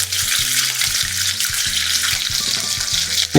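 Tap water runs steadily while fish are washed clean in a kitchen sink, a close, continuous splashing hiss with faint knocks from handling beneath it.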